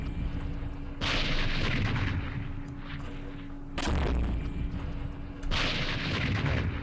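Heavy gunfire and artillery-like blasts from the Campaign Series Middle East wargame, coming in three loud, rumbling bursts that each hold for about two seconds before fading into a steady battlefield drone.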